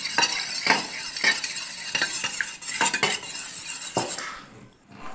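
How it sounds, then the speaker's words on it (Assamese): A spoon whisks eggs in a bowl for a Bihu cake batter, giving quick rhythmic clinks and scrapes against the bowl at a steady, fairly close pace, with no voices. "এতিয়া চামুচেৰে ভালদৰে গুলি ল'ম।"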